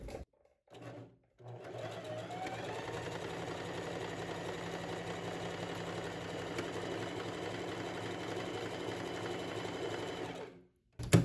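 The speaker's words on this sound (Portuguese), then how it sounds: "pisa para poder a máquina realizar a costura" A sewing machine stitches a women's shirt with a steady, continuous close whir that runs for about nine seconds after a short start, then stops.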